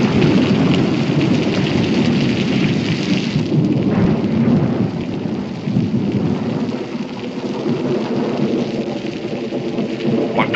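A thunderstorm in a 1969 Western drama brings heavy, continuous rain with rolling thunder rumbling loudly throughout, and no voices.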